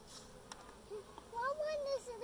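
Honeybees at a hive being opened for inspection give off a faint, low buzzing hum, with a few soft tonal sounds rising over it near the end.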